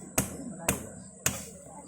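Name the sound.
hammering with a hammer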